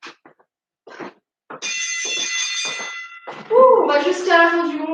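Workout timer gong during a chair-based strength training session, a sustained ringing metallic tone that swells and then sounds again with a bright bell-like shimmer, following short bursts of talk.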